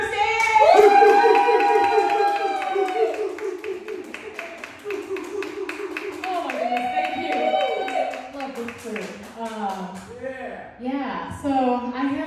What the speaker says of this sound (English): I really want to hear a huge clap for our producer of our show